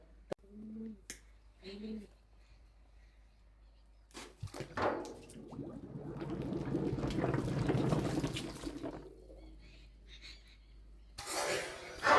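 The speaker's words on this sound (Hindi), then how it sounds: "तो गाइस इस अनार को हम चला के डालने वाले हैं इस पानी के अंदर।" A pomegranate drops into a container of water, followed by several seconds of splashing and bubbling that swells and then fades. A few short voice sounds and sharp clicks come before it.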